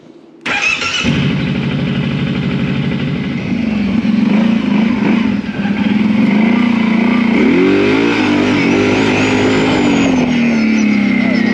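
A Kawasaki Brute Force 750 ATV engine fires up abruptly after a moment of quiet, then runs loud and close, its pitch rising and falling as the throttle is worked during a short ride.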